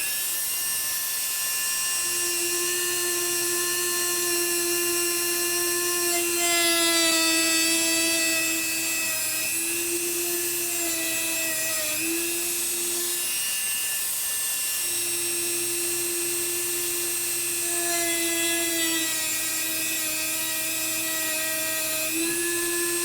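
A small rotary tool whines steadily at high pitch while cutting apart a Hot Wheels die-cast car to free its wheels. The pitch dips and shifts as the tool bites, with a short pause midway.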